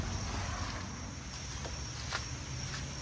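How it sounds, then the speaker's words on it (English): A rebuilt lawnmower engine swapped from two rusty trash mowers, idling with a steady low rumbling drone and faint whining, fairly quiet and continuous, with light wind-like noise over the microphone. "Engine sounds alright."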